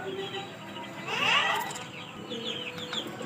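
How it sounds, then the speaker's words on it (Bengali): Newly hatched Chinese ducklings from an incubator peep and chirp in quick, high, overlapping calls that swell briefly in the middle, heard close by. "এগুলো হচ্ছে চীনা হাঁসের বাচ্চা ইনপুটের মাধ্যমেই ফোটানো হয়েছে"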